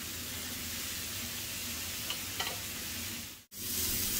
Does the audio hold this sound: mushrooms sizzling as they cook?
yes